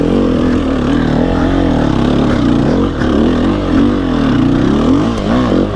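A new enduro motorcycle's engine runs close and loud, its tone rising and falling in steady revving under load with no voices.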